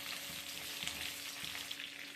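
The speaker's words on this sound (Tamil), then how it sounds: "300 கிராம் வெண்டைக்காய் வச்சுருக்கேன், அதையும் போட்டுடலாம். இது நல்லா வதக்கிக்கலாம்." Sliced okra sautés and sizzles in oil in a pan for a tamarind curry, with curry leaves and chillies in the mix; a steady, close frying hiss with a few soft stirring knocks and no voices.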